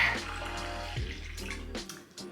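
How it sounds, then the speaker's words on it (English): Cold tea is poured into a glass, giving a steady close liquid trickle with a faint hum underneath, the stream briefly changing tone midway before tapering off. "I'm just gonna pour myself a cold one."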